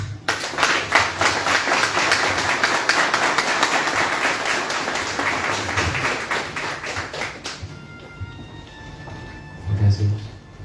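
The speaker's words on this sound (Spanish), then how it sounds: "Un aplauso." Mourners in a church applaud at a funeral service, sustained dense clapping for several seconds that stops abruptly, leaving quiet room tone and a brief low thump near the end.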